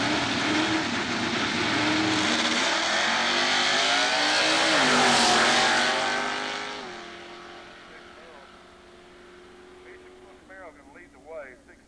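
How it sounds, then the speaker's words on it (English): Drag race cars, including a 1969 Chevrolet Camaro, roar loudly down the strip, the engine rising to a peak and then fading into the distance, with an announcer talking over the run. "Mark doing the driving duties in that beautiful 69 Chevrolet Camaro"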